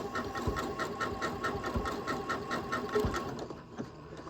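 Sewing machine fitted with a blind hem foot stitching a blind hem, a fast steady mechanical whir with rhythmic needle clatter close by, stopping shortly before the end.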